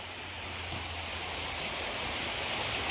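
Light drizzle falls steadily outdoors where pigeons bathe, an even, soft hiss of rain on surfaces holding constant without any voices.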